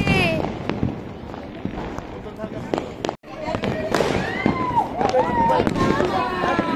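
Firecrackers bursting all around on New Year's night, sharp scattered bangs near and far in irregular bursts, with people talking and shouting throughout.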